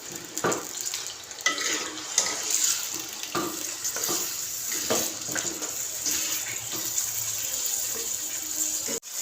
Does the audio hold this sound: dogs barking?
no